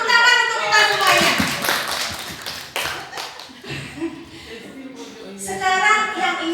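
An audience of adults in a classroom or workshop setting claps together, a dense, close burst of applause that swells, dips and rises again, with voices chattering underneath throughout.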